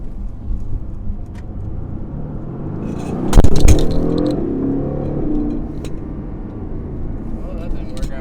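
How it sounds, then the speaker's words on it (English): A car drives past on a road, its engine rumble building from a low background hum to a close, louder swell around the middle before fading away again. "Wait for this car to go by"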